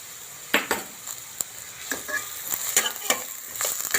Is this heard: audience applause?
no